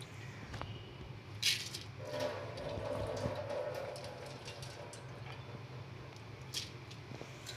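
Water pours into a pressure cooker holding rinsed lentils for dal, a soft gurgling stream lasting a couple of seconds midway, with faint kitchen clatter before and after.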